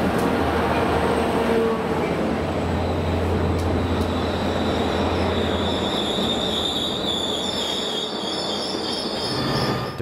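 Amtrak Spirit of California passenger train pulling out of Davis station in 1983, a loud, close, continuous rumble of rolling cars with high wheel squeal building toward the end and a low engine drone underneath.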